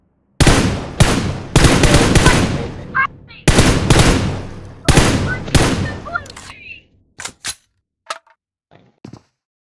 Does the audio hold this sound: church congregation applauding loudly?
no